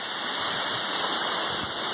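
A jungle waterfall pours in a steady, loud rush of white noise, close by and unbroken across a couple of seconds.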